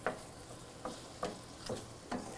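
Fennel, onion, garlic and sardines stirred in a pan over a medium flame for pasta con le sarde, faint scraping strokes repeating about every half second over a low background sizzle.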